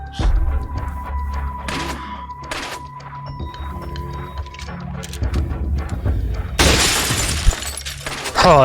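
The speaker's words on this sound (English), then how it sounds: "that was cool, shooting through that glass" Glass shatters from gunfire in Resident Evil 4, a bright crashing burst of breaking shards late in the moment, loud over game ambience and scattered thuds.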